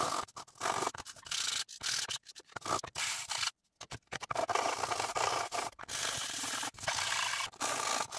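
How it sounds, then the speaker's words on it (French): Coarse 100-grit sandpaper rubs against 3D-printed PLA model aircraft parts in quick, uneven strokes. The scratching is close and dense, broken by brief pauses, with no voices. "Je vais déjà commencer à poncer au 100,"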